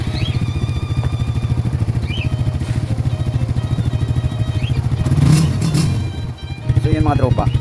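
Motorcycle fitted with a new stainless exhaust pipe, idling with a steady, fast, throbbing putter and then briefly revving, close up, with someone talking over it.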